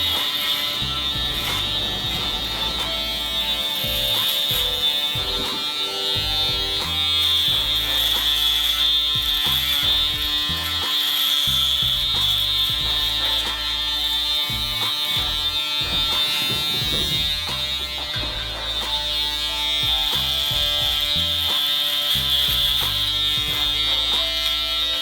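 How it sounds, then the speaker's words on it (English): An Andis electric foil shaver buzzes steadily and loudly through the whole stretch, a continuous close-up motor whine used on a face, with small shifts in pitch and texture as it moves across the skin. "And then I'll use my Andis full shavers, and what I'll do is I'll literally instead of shaving, I full shave."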